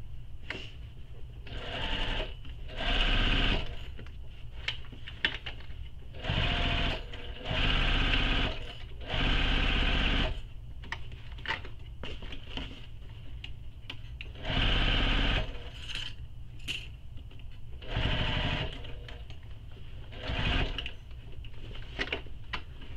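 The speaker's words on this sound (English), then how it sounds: "Now we're going to sew the second side. Same way, same thing. Stitch all the way around, keeping everything nice and flat." A sewing machine stitches the second side of a fabric handbag in repeated bursts of steady mechanical whirring, each lasting a second or two and separated by short pauses, close and clear.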